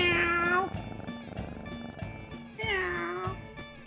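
A man imitates a cat with a string of drawn-out, wavering meows, two long nasal calls clearly separated by a quieter stretch, close and fairly loud.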